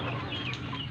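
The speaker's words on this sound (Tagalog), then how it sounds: "Tapos ako magpakain ng manok" Chickens clucking during feeding near a vegetable garden, a steady chorus of close, overlapping clucks and rooster-like calls filling the moment with no one speaking.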